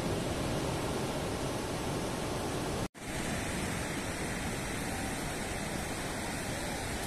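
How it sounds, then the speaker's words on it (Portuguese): Steady roar of sea surf at the water's edge on Praia Grande, Canto do Forte, on the São Paulo coast: a dense, continuous wash of breaking waves with a brief cut of silence near the middle. "na beirinha da água. Esse marzão maravilhoso aqui pra vocês."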